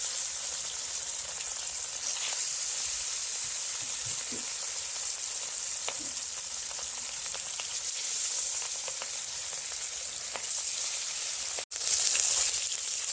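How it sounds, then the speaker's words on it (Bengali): Continuous crackling sizzle of Bhola fish frying in hot oil, steady and close, with occasional light pops and stirring clinks. "এবার উল্টে পাল্টে মাছগুলো লাল লাল করে ভেজে নেব"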